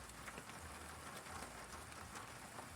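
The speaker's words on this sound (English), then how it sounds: "We have rain" Rain falls steadily during a heavy thunderstorm in Sioux Falls, South Dakota, a faint, even patter on surfaces with no voices or thunder.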